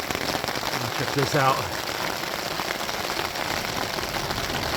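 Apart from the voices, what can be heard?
heavier rain falling at a tunnel campsite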